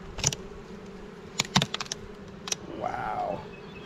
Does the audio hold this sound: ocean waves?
no